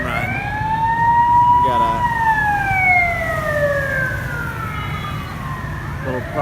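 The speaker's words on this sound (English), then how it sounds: "a little private ambulance." A small private ambulance siren in Bangkok wails, sweeping up and down in pitch, loud and fairly close, with a few words spoken over it and traffic noise beneath.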